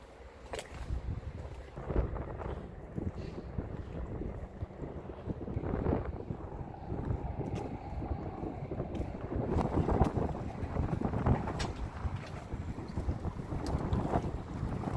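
Steady wind buffets the microphone outdoors at a boat ramp by fast-moving water, a constant low rumble with gusts swelling and fading throughout, no voices.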